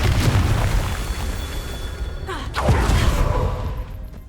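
Confringo blasting curse in Hogwarts Legacy, a loud rumbling game explosion with deep bass that rolls on, then a second sharp impact and burst midway, booming again before trailing off.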